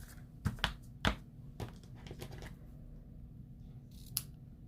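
Scissors snipping the ends of a tied knot in fabric, several sharp close clicks and cuts in a quick cluster, then a pause and one last snip against a faint background hum.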